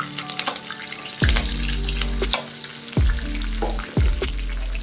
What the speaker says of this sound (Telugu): కరివేపాకు కూడా యాడ్ చేసేద్దాం పచ్చిమిర్చి యాడ్ చేసేద్దాం